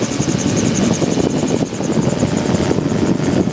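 A Magni M16 gyrocopter engine drones steadily and loudly throughout a practice circuit in flight, a constant rumbling roar with rotor and propeller buzz and no break in power.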